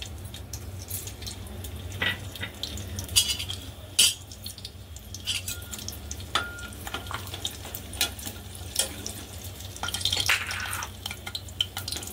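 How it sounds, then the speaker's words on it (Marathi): Cashews, almonds and raisins roasting in hot ghee in a pan, a steady close sizzle with occasional scrapes and clinks of a stirring spoon, no talk. "याच्यावरतीच आपण हे काजू भाजून घेऊया, काजू बदाम आणि मनुके"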